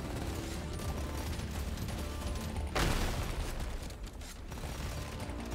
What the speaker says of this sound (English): Auto cannon's just tearing through.